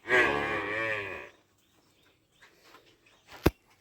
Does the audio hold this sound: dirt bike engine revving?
no